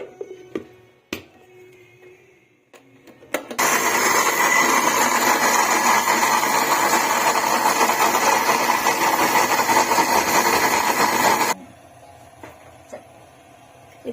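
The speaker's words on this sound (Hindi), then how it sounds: "इसमें आधा कप मैंने पानी डालकर अब इसको ब्लेंडर करके" An electric blender grinds soaked chana dal with half a cup of water, a loud, steady whirring roar lasting about eight seconds, preceded and followed by quiet handling noises.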